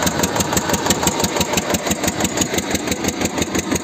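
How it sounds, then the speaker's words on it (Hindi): A farm tractor engine runs nearby in a village field where it is used to pump water. It makes a fast, regular chugging putter at an even pace, with no voices over it. "ये देख लो ट्रैक्टर।"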